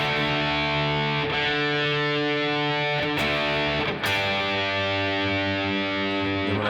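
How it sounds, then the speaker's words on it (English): Electric guitar with distortion, strings plucked and bent while checking tuning by ear; sustained notes ring out, with fresh attacks at three points. "I'll bend one of them to see which one's in tune."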